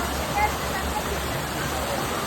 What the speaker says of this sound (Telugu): చూడండి ఫ్రెండ్స్, వాటర్ ఫాల్స్ నేను ఇంకా చూపిస్తాను